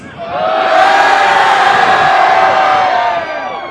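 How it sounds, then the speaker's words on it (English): A large crowd roars in one sustained, loud wave of mixed yelling and cheering that swells, holds, then fades near the end. "You weren't quite sure whether to boo or cheer there, were you?"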